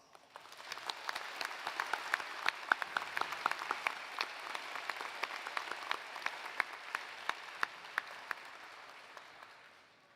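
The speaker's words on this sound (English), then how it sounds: "please join me in applause" A commencement audience at Rocky Mountain University of Health Professions applauds award recipients with a steady, even wash of clapping that fades away gradually toward the end.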